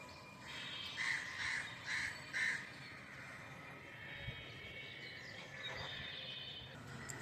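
Crows in a tree caw four times in a quick, evenly spaced series, fairly faint against steady outdoor background noise, then fall quiet apart from a few distant calls.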